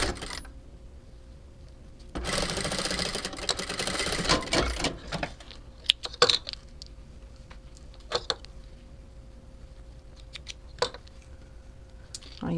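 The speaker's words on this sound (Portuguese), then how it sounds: "Eu vou costurar um de cada vez, pra que dê tudo certinho" A sewing machine stitches lace for a padded cropped top in a long rapid burst, followed by short bursts and clicks from handling the fabric, with a faint hum underneath.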